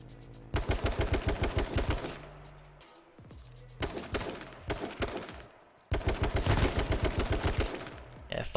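Shotgun gunfire in H1Z1 Battle Royale comes in three loud bursts of rapid, closely spaced shots, each run lasting a couple of seconds with short gaps of quiet between them.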